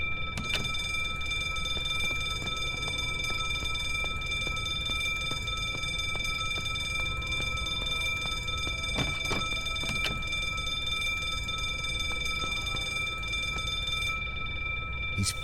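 A high electronic alarm rings continuously in the video game The Drifter, a steady piercing tone held for a long stretch, with a few dull thumps and knocks sounding underneath.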